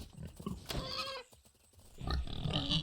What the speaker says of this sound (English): Young pigs.